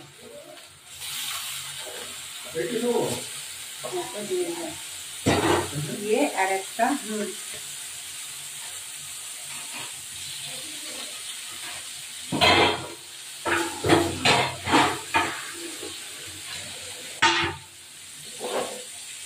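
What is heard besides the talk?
rohu fish pieces frying in hot oil in a frying pan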